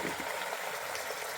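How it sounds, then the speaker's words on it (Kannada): Mutton goes into hot oil in a pan for a village-style mutton curry, setting off a loud, steady, close sizzling hiss that fills the whole moment with no talking. "ಇವಾಗ ಆಯಿಲ್ ಕಾದಿದೆ. ಇದಕ್ಕೀಗ ನಾವೀಗ ಈ ಮಟನ್ನ ಹಾಕ್ಕೊಳ್ಳೋಣ."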